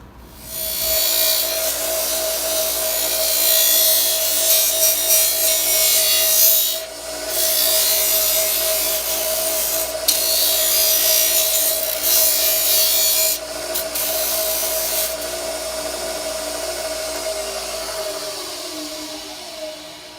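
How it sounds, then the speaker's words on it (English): Steady abrasive grinding on the edges of flattened metal armor pieces for knee and thigh defenses, a continuous rasping whine held near and loud for about twenty seconds, with brief dips and pauses around the seventh and thirteenth seconds. "flatten all these parts down so that way I can grind all the edges properly and get it ready for forming"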